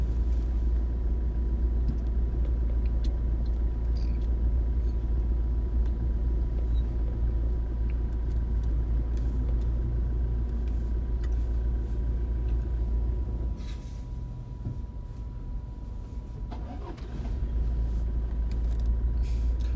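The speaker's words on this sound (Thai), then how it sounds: "รถติดมากเลยครับ" Cars stuck in a traffic jam make a steady low engine rumble with faint road noise, continuous and even, with no talking.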